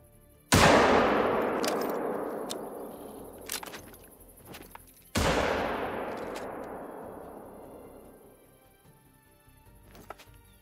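Two loud rifle shots in a video game, several seconds apart, each followed by a long rolling echo that fades slowly, with faint rustling in between.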